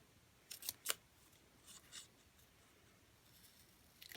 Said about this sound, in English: then we'll just trim the tips of this up